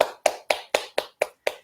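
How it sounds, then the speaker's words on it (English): Two hands clapping sharply and cleanly, eight evenly spaced claps close up at a steady, brisk rhythm, each one distinct with a quick decay and no talk. "And then clapping the hands in a nice clear sound."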